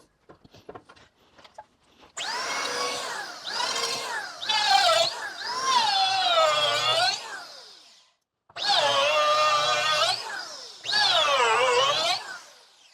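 A Makita hand planer with a helical cutterhead shapes a wooden paddle, its high whine rising and dipping across several long passes with short pauses between them, loud and close.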